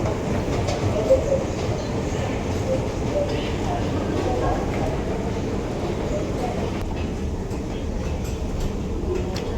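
An MRT train at Ampang Park station in Kuala Lumpur rumbles steadily along the track, a constant mid-loud rolling noise with faint clatter throughout.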